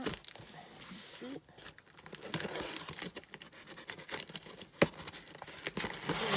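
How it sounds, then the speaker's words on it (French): Adhesive tape is peeled and ripped off a parcel in a mailbox in crinkly, scratchy bursts, with rustling and handling noises throughout, close up. "je suis en train d'enlever tout le scotch qu'elle a mis"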